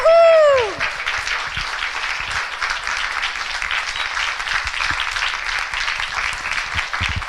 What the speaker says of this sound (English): Give Kathleen a round of applause,